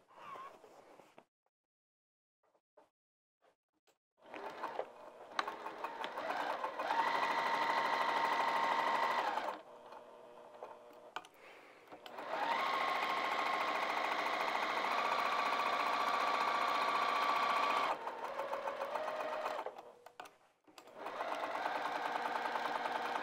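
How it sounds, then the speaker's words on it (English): A sewing machine stitches down the sides and across the bottom of a bag pocket in long steady whirring runs, stopping in short pauses between seams. "I'm going to sew down the sides and then across the bottom."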